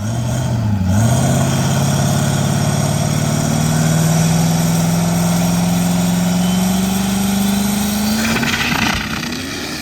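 Triple-turbo 6.7 Powerstroke diesel dragster on its third pass, a loud, continuous engine roar whose pitch climbs steadily across the run before cutting off abruptly near the end.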